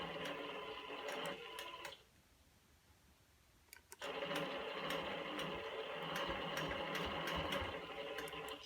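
A longarm sewing machine stitches binding onto a quilt with a steady, rapid mechanical ticking hum, close and fairly quiet; it stops for about two seconds, leaving near silence, then resumes and runs on evenly.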